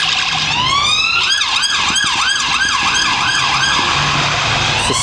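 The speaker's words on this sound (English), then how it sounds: "A lot of cop cars." Several police car sirens wail loudly as the vehicles pass close by on a road, the rising and falling tones overlapping continuously with traffic noise underneath and no talking.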